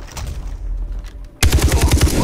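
Gunfire in the video game Far Cry 3: a quieter stretch of scattered shots, then a sudden loud burst of rapid automatic fire.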